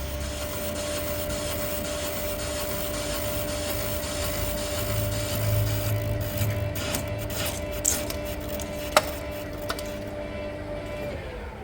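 A machine tool plunge-cuts into a hard-metal bulldozer yoke to clear overspray. A steady mid-pitched whine runs over broad grinding noise, with a few sharp clicks and taps toward the end.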